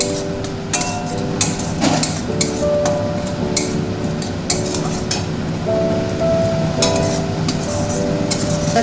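Potatoes being stirred with sugar in a pan for a vegetarian new-potato aloor dom, with steady scraping and clinking of a utensil against the metal pan, close and continuous, with no talk.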